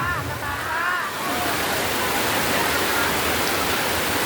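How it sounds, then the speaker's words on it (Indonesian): Heavy rain pours steadily, a dense broadband hiss like water drumming on a roof, with a faint voice briefly audible at the start beneath the downpour. "hujannya tambah gede, nggak apa-apa"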